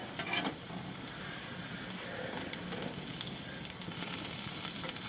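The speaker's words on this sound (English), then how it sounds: "Onions are grilling up" Onions and squash grill on a camp stove at a beach motorcycle campsite, giving a steady, close sizzle and crackle that holds evenly throughout with occasional sharper pops.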